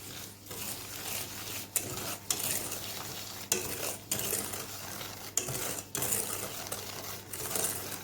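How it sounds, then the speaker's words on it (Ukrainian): A spoon scrapes and swirls steadily around a bowl of cake batter with sugar, soft rhythmic strokes and occasional light clinks, close by and without any voices. "Тепер все оце перемішую."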